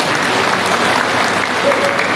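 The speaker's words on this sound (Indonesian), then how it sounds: "Tepuk tangan untuk Bapak Ibu untuk BLN semuanya." Audience applause fills a hall at a cooperative recovery outreach event, steady dense clapping throughout at close range with a few voices underneath.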